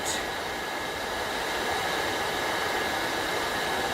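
Zephyros dust collector running at half speed, a steady broadband whooshing airflow roar with a faint motor hum, constant and close, with no talk.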